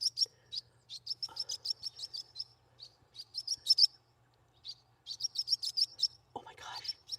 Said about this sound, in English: I have 2 birds swarming me.